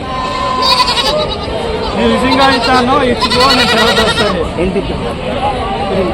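Goats bleat loudly and repeatedly at a crowded livestock market, over a dense, noisy crowd of voices and chatter, the wavering cries overlapping throughout.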